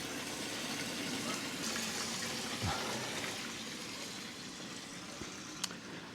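A jacuzzi holding about 1,000 litres is filled with water, giving a steady, faint, continuous rushing flow with a few small knocks over the top.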